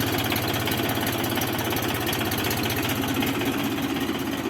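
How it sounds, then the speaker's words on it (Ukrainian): A small tractor engine runs at a steady idle during a test drive, with a loud, continuous rhythmic chugging and a rattly mechanical knock close to the microphone. "Тракторець зараз буде проходити тест-драйв, будемо все що перевіряти все, що як працює, нагрівати"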